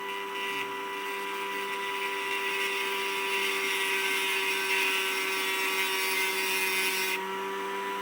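Rotary drill bit grinding into wet Tasmanian jade stone, a continuous steady high whine with a droning motor hum, unbroken and close, without speech.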